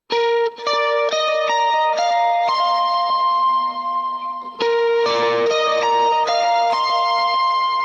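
Electric guitar lead lick at the end of a verse, a bright run of picked notes with effects and echo, loud and alone.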